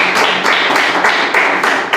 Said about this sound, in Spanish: Vamos a darle un aplauso a la palabra de Dios.